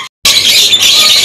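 Canaries at a bird sale kiosk give a brief burst of high, shrill chirping after a split-second gap, loud and close.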